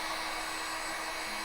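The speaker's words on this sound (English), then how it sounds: "I used a hair dryer" A hair dryer blows in a steady, even rush of air, close and loud, running continuously with no voices over it.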